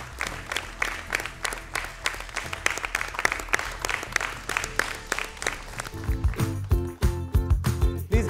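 A crowd applauds at a quiz event with dense, steady clapping that carries on throughout, and a voice speaks over it near the end.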